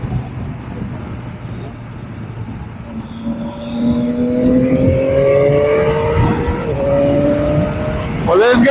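A car engine revs and rises in pitch as it passes close by, heard from a motorcycle out on a ride, with wind noise throughout and a brief sharp whine at the end.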